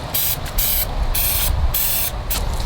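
Spray paint on a Trek Ticket S full-suspension mountain bike frame: several short, close hissing bursts in quick succession, loud and alone with no talk.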